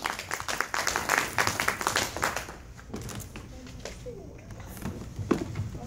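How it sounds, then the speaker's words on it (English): Audience applause after a stage performance, with brisk, crisp clapping from a crowd that is strongest early, then thins into scattered claps with a few isolated hand hits. "let's give him one more rousing round of applause"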